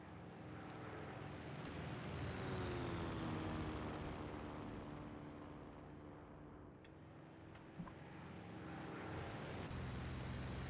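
Steady, continuous engine drone of a P-47 D-28 fighter plane in flight within a video game, holding a loud, even tone throughout with a slight dip midway and a brief click near the end.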